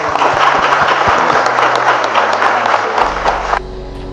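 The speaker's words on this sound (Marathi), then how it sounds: "परत एकदा टाळ्या झाल्या पाहिजे" Audience applause at a SuperX 2025 Java project competition, a dense steady wash of clapping from a crowd, loud and continuous, tapering slightly near the end with a low hum underneath.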